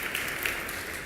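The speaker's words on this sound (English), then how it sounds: "You were going to clap. Do it." Church congregation applauding during a mission appeal update, a steady dense wash of clapping holding evenly throughout without speech.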